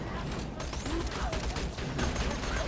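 An automated turret in the shooter Borderlands 2 fires rapid continuous bursts amid a chaotic battle, dense crackling gunfire layered with other weapons and effects, loud and unbroken throughout.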